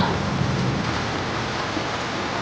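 Heavy rain pours steadily outdoors, a dense, even wash of hiss that stays loud and unbroken throughout, with no voices heard.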